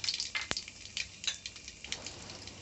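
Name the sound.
mustard and cumin seeds sizzling in hot oil in a kadai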